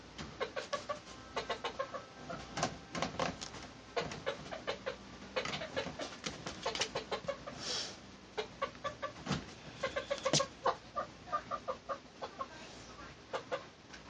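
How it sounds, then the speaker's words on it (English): A baby chicken in a cage clucks and peeps in rapid, repeated bursts, faint and somewhat distant, continuing steadily in the background of a quiet room. "The noise you hear in the background is my baby chicken who's in a cage"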